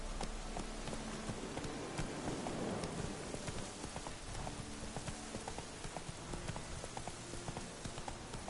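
Horse hooves clip-clop in a steady rhythm in The Witcher 3 video game, faint and mixed into a wash of rain and ambient noise.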